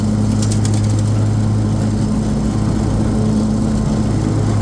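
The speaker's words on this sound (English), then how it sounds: "Really good blade tip speed on these mowers as well." A 61-inch SCAG Turf Tiger commercial zero-turn riding mower running steadily up close, its engine giving a loud, constant droning hum with a strong low tonal whine and no talk.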